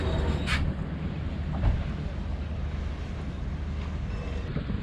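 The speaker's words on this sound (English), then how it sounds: "the wind's still humping" Strong wind buffeting outdoors in a dusty, hazy harbour at Mindelo: a steady, dense broadband roar with gusty swells and microphone buffeting, no voices.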